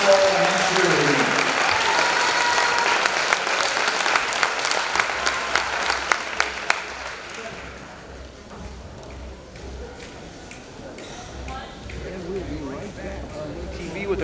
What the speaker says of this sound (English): Please give these athletes and their parents one more big round of applause.